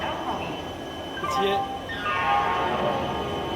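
A train at night on the way to Purulia, heard as a steady broad rumble of rolling stock with faint metallic squeal lines. People talk over it throughout.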